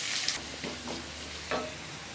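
Steady, bright sizzle of onion frying in hot oil, with a few soft stirring scrapes breaking through the hiss.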